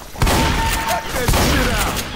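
Rapid gunfire crackles through a Left 4 Dead 2 zombie shootout, dense overlapping shots with heavy thumps, loud and close, with a voice calling out over the din.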